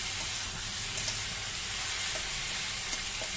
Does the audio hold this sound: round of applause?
no